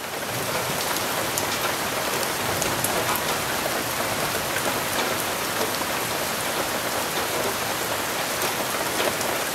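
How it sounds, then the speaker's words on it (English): Steady, dense rain pattering on a hard surface, continuous and fairly loud throughout with no voices. "I can't work on it right now because it's raining"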